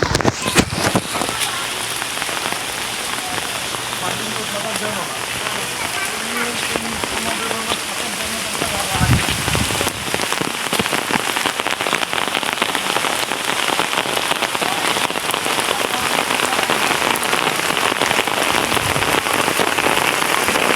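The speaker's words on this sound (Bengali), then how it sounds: "এই যে জোরে বৃষ্টি নামছে" Heavy monsoon rain pours down steadily in a dense, hissing wash on the bank of the Meghna River, loud and close, with brief faint voices early on.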